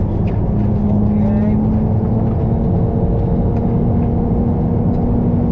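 A Ferrari 296 GTB accelerating on the Sepang circuit, heard from inside the cabin as a loud, steady engine drone, with people talking over it.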